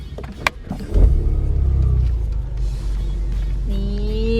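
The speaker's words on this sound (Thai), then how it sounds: "เดี๋ยวจะสตาร์ทเครื่องให้ดูว่ามันเท่มาก" A 2020 Ford Mustang engine cranks and fires up with a loud burst around the first second, then settles into a low, rumbling idle, followed by a rising electronic chime.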